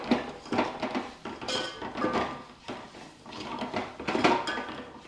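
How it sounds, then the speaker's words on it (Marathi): Spices are sautéed in oil for a village-style katachi aamti. A spatula scrapes and knocks against the pot in uneven bursts while the ingredients are stirred, close and fairly loud. "आता हे मसाले दोन मिनटं तेलामध्ये परतून घ्यायचे आहेत तेल सुटेपर्यंत असेच परतून घ्यायचे"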